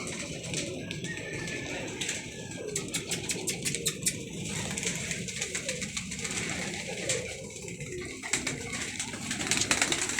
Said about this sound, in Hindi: अभी शानी ज़रा मसरूफ़ है, कबूतरों को दाना वगैरह डाल रहा है।